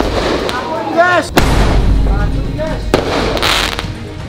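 A few loud firework blasts go off one after another, with whistling rises before some bangs, close and sharp.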